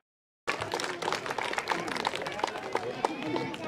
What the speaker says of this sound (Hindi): जोरदार तालियों से अभिनंदन करेंगे